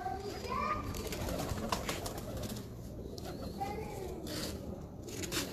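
A Ferozpuri cross pigeon coos softly near the listener, low murmuring calls repeating through the whole stretch, with someone talking over them and a little rustling and wing movement.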